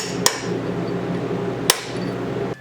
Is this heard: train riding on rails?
no